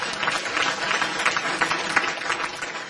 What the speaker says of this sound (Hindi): आप सब लोगों के लिए बहुत सारी ताली।